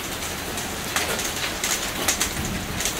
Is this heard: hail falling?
yes